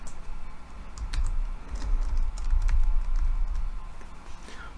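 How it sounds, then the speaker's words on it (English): Light keystrokes on a computer keyboard patter in a quick, uneven run, close and fairly soft over a low background hum. "we're going to type in my account."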